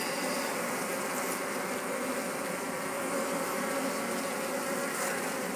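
Honeybees in an open hive during a search for the queen give a steady, dense buzzing drone that stays even and close throughout, with no talking.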